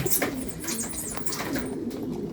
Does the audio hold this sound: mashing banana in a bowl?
no